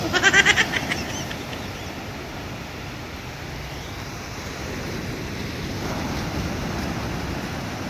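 Calm sea waves at the beach wash in as a steady, soft broadband surge with light wind noise, a brief louder burst at the start, no voices.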